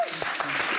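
A studio audience claps for a guest on a French talk show, a dense, steady burst of applause, fairly close and full.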